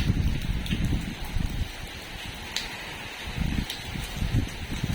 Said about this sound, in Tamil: மழை பெஞ்சிக்கிட்டே இருக்குது